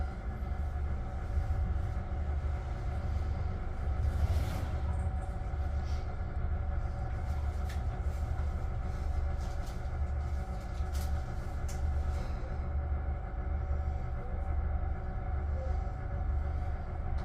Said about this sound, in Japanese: ただいま地震発生を想定した列車の停止訓練を行っております。